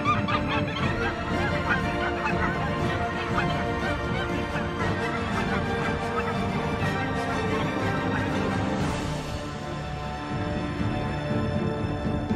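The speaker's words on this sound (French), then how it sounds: "Les oies s'envolent vers le sud." A flock of geese honks continuously, dense overlapping calls filling the whole stretch at a steady level, likely flying overhead on migration across open tundra.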